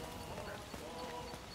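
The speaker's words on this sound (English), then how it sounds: "They're cleaning the horse." Horse hooves clip-clopping steadily in the video game A Plague Tale: Requiem, set among soft background ambience in a short burst.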